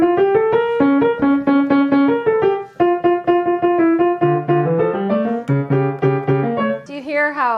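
A piano played too fast in a stammering way, with many wrong notes quickly corrected, grouped notes and repeated notes; a steady, close stream of notes with uneven, halting rhythm and brief breaks.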